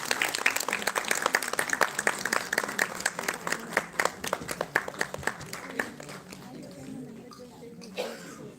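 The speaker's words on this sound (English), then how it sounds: "A big round of applause, everyone." A round of applause from an event audience honouring a guest at a spring festival gathering, steady dense clapping that tapers into sparse claps near the end, with faint voices underneath.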